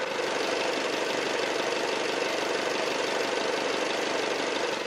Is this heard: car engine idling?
yes